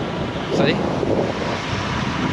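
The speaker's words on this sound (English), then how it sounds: "See that wind?" Wind noise from cycling at around 40 km/h, a loud, constant roar buffeting the microphone without a break across the whole moment, with no clear speech over it.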